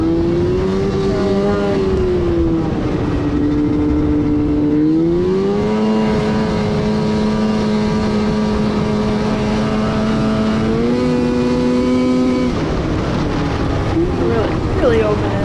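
A fuel-injected snowmobile in northern Michigan runs at full throttle, its loud, sustained engine whine rising and shifting pitch in steps as it rips along, with wind buffeting the microphone.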